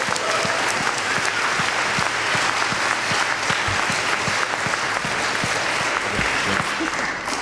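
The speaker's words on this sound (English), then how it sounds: "let's give them all a round of applause because they did a great job" Sustained audience applause at a New York City screening of an anti-fracking film, dense steady clapping from a crowd with individual sharper claps standing out, holding at an even level throughout.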